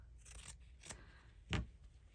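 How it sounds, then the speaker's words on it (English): Scissors snip through a piece of fabric during a stitchery project, a few quiet close cuts with one sharper crisp snip near the end. "let me just cut this piece as well."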